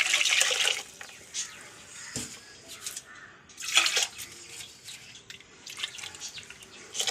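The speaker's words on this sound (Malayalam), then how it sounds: "ജാറ് കഴുകി പാകത്തിനുള്ള വെള്ളം ഒഴിക്കണം." Water splashes and pours into a blender jar as it is rinsed for a sardine fish curry, a run of uneven wet gushes and drips at moderate loudness with short pauses between them.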